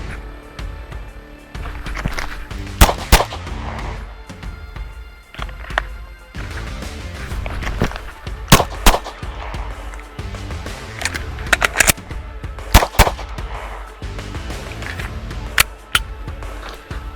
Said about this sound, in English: let's actually throw some rounds down these and actually see how they compare next to each other, how they really feel